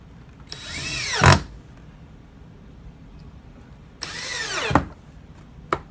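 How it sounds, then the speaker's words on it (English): A power drill drives two screws to mount a wooden saw blade rack, making two separate bursts of rising whine that each end in a sharp seating thud, with quiet between them. "Put our 2 screws in."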